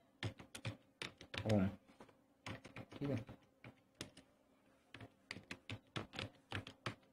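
Typing on a computer keyboard, quick clusters of close key clicks in bursts with short pauses, as someone speaks briefly between them.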